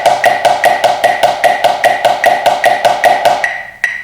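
Snare drum plays steady, even sixteenth notes at a moderate tempo, with a crisp, close, evenly spaced rattle of strokes that stops near the end, followed by one final accent hit.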